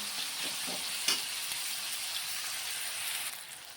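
Onions frying in oil with green chilies and bay leaves, a quiet continuous sizzle with a couple of faint stirring clicks near the start.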